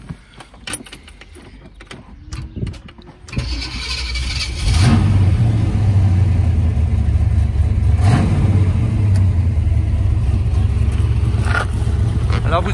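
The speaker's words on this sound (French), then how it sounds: "vous avez des gros Flowmaster en dessous de la voiture qui lui donnent un bruit particulièrement, dirons-nous, rauque" A 1968 Chevrolet Camaro with large Flowmaster exhaust starts up: cranking and a catch, then the engine settles into a loud, steady, raspy low rumble at idle, close by, with someone speaking before it fires.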